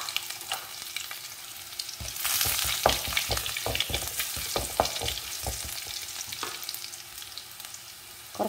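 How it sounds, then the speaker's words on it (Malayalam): Mustard seeds and crushed garlic hitting hot coconut oil in a pan, a burst of loud sizzling and crackling popping that settles into steady frying with intermittent stirring clatter, close up and without voices. "വെളിച്ചെണ്ണ ചൂടായി വന്നാൽ അതിലേക്ക് ഒരു ടീസ്പൂൺ കടുക് ഇട്ട് കൊടുക്കാം"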